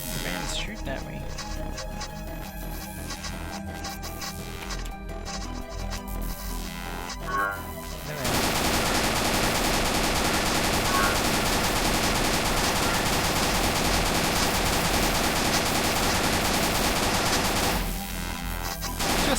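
Video game gunfire in rapid bursts, building into a long, loud, continuous barrage of automatic shots that dominates, with talk under the early part.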